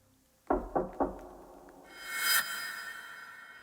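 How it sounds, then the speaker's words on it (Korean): Three sharp knocks on a wooden toilet stall door in an empty school restroom, evenly spaced and fairly close, followed by a rising swell of eerie effect noise. "연달아 다시 들려오는 똑똑똑"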